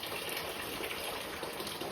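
Hot water from a kettle poured steadily into a bucket for a floor wash, a continuous gushing splash with no break, fairly soft and with nothing else over it.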